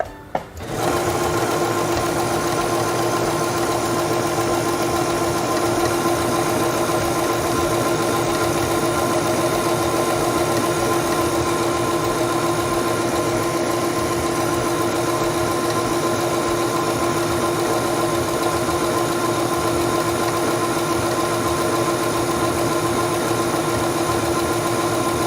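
A quilting sewing machine runs steadily on fabric, a loud, close, continuous mechanical whir with a fast even stitching rhythm that starts abruptly and holds unbroken throughout.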